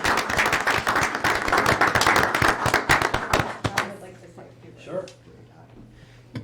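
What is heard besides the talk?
council meeting audience applause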